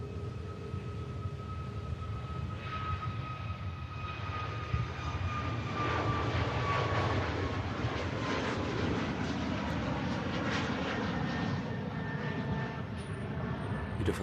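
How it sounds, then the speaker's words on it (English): A Sun Express Boeing 737 MAX departing Manchester Airport for Antalya produces a sustained jet roar with a gliding engine whine, heard from a moderate distance and growing slightly fuller as it climbs. "Beautiful departure there, the Sun Express 737 MAX"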